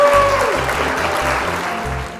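A short burst of applause-like noise in a classroom lesson, broad and steady, with a brief tone near the start and a low rhythmic pulsing underneath.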